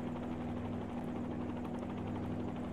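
Helicopter hovering in a flight simulator game, a steady droning rotor and engine buzz with a constant tonal hum, held at an even level without pauses or speech.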